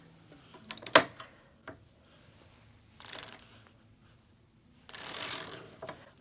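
A circular sock machine is cranked back and forth for short rows, giving ratcheting mechanical clicks and whirring bursts, with a sharp knock near the start and a longer grinding run toward the end.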